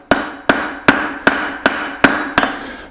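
Seven sharp, evenly spaced hammer blows ring out on hot steel while forging an 8 oz hammer head on an anvil, loud and close, each strike with a short metallic ring.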